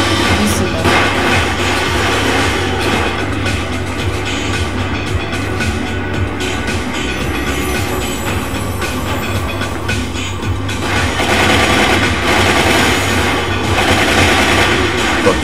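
Train running in Resident Evil: Umbrella Chronicles on the Wii, a loud, steady rumble and clatter of rolling rail cars that carries on without a break throughout.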